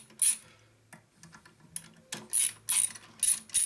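Ratchet wrench clicking in short bursts while removing the carburetor backing plate on a 2001 Gilroy Indian Chief motorcycle, with scattered mechanical clanks between several loud bright rattling runs.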